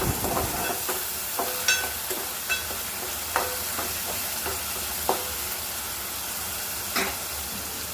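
Green chilli slices frying in hot oil in a home kitchen, a steady close sizzle broken by several sharp pops and crackles spaced a second or so apart.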